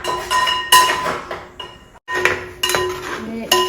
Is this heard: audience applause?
no